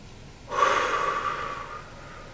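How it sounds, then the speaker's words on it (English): A single slow, deep breath drawn in and let out close to the ear, starting abruptly and easing off over about two seconds during a calm breathing exercise. "we're going to just breathe really deep"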